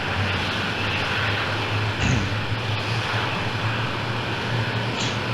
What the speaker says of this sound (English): Let's activate it, and you can see that the engine is starting.